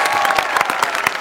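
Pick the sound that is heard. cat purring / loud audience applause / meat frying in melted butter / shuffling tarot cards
loud audience applause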